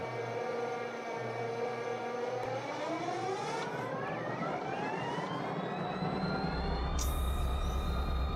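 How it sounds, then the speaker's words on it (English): A diesel locomotive engine in the Run 8 train simulator, with a rising turbo whine climbing steadily in pitch over a low rumble, loud and sustained, ending with a burst of air hiss as air is bled. "You can hear a lot of turbo in there."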